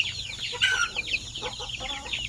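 Chickens cluck and chatter nearby in a steady stream of short calls, several birds overlapping at moderate volume with no one talking.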